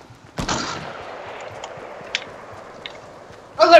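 Gunfire in a Fortnite Battle Royale sniper shootout: one sharp, loud shot with a ringing decay, a few faint distant pops, then another strong shot at the end.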